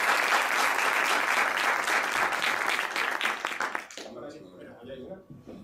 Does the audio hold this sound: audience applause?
yes